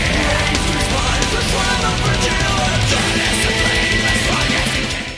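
A symphonic metal track plays loud and dense, a continuous wall of distorted guitars, drums and layered instrumentation at full volume with no break and no talking.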